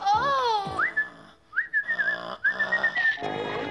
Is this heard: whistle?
yes